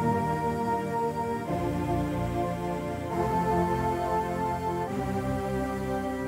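The Omnisphere Pop Female 1 Airs preset plays a chord progression, a sustained airy pad whose chords change about every one and a half seconds, steady and full, with no talking.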